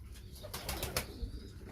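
Pigeons, including an aged bird and a female, coo quietly nearby in a brief soft burst of low throaty calls.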